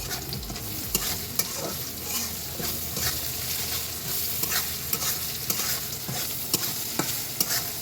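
Noodles are stirred with tasting salt in a hot pan, giving a steady sizzling fry with scraping spatula strokes and sharp clicks against the pan, continuous and close.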